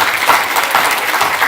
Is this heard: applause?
yes